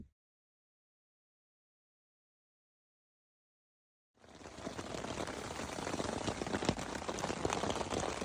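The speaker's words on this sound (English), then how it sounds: "Torrential rain and winds just eased off a little bit" Torrential rain with wind drums steadily and heavily on a wild-camping tent on the Isle of Skye, starting abruptly after several seconds of silence and continuing as a dense, close hiss.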